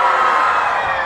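Crowd at a live political satire comedy show cheering and whooping loudly, a dense, close burst of voices with possible clapping blended in, no speech over it.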